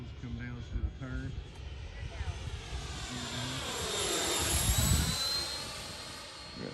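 A Freewing F-5 80mm electric ducted-fan RC jet sweeps past, its whine rising and falling in pitch as it closes in and pulls away, while someone talks through the first part.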